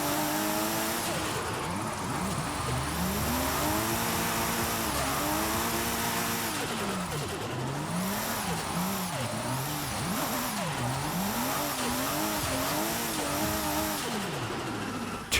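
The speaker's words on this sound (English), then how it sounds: "Listen to how good this car sounds." A drift car engine in Forza Horizon 5 roars continuously, its pitch swinging up and down as it revs through drifts, with faint tire squeal, loud and close throughout.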